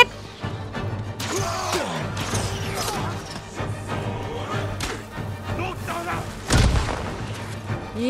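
Explosions during combat in the video game Ghost of Tsushima, a series of loud, crashing booms and bursts over busy battle noise, with the heaviest blast coming near the end.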